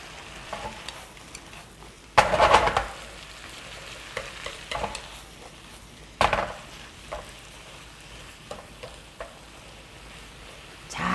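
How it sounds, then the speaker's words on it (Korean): Goat bulgogi is stir-fried with chives and perilla leaves, a continuous sizzle with sharp clatters of a spatula scraping and tossing the pan. The pan is close, with no talking. "이제 부추하고 깻잎만 들어가서 한번 휙휙 볶아주면 끝이랍니다"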